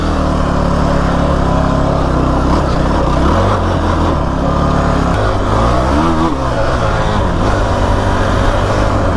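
A 2008 Kawasaki KFX 450R ATV engine roars loud and close while riding, revving up and down through gear changes with a continuous throaty drone and no talk.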